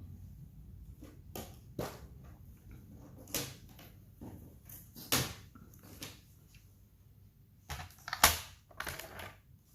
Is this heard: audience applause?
no